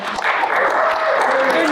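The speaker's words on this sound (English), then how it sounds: "I didn't realize these were all applause lines, but thank you" A town hall meeting audience breaks into a brief, close burst of clapping that continues steadily, with a voice speaking over it.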